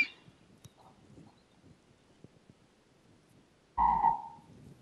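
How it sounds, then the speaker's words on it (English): Faint outdoor ambience with small scattered ticks and rustles, then one loud, close, low croak from a frog near the end. "That was a frog for sure."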